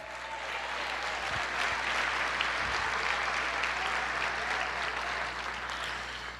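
A church congregation applauds with dense, sustained clapping from a large crowd. It sounds steady and fairly even, and it fills the whole clip without a break.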